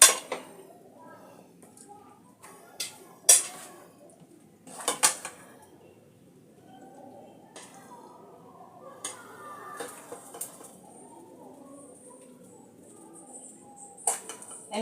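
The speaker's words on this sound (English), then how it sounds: "So I'll serve my stew." Utensils clink against a pot and plate as liver stew is spooned out, with scattered sharp metallic taps and scrapes spread across quieter stretches, moderately close.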